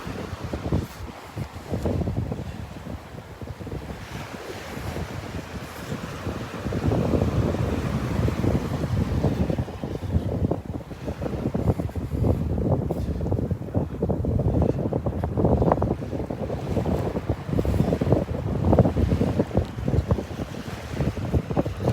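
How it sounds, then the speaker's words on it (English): Strong wind blowing on a beach at Delnor-Wiggins, buffeting the microphone in a continuous low roar with gusty surges, likely mixed with surf, and no talking. "Even though this wind is driving me crazy."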